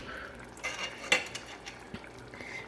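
A spoon scraping and clinking in a pot of Barbadian cou cou, with a few soft metallic knocks and stirring scrapes, one sharper clink near the middle, fairly faint in a quiet kitchen.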